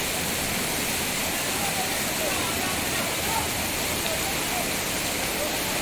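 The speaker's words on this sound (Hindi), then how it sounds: "नैनी झील से हल्द्वानी रोड व भवाली रोड के ऊपर पानी के तेज बहाव के चलते" Strong floodwater from Naini Lake rushes over the Haldwani and Bhowali roads, making a steady, loud, broadband roar like a waterfall that holds without a break throughout.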